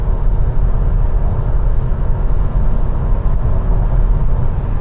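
Inside a 2026 Forthing S7 REEV range-extender SUV at night, the petrol engine and electric motor drone loudly under acceleration, a dense continuous roar of engine, road and wind noise with no talking.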